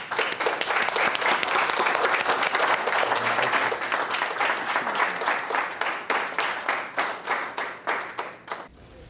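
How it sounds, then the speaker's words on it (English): A small group applauds graduates holding up their certificates. Dense, lively clapping thins into slower, separate claps that trail off and stop near the end. "Let's give these gentlemen a round of applause."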